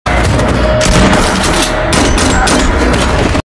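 Loud, dense bursts of gunfire in an action film, with rapid overlapping shots and booms, continuous and close, like an intense firefight.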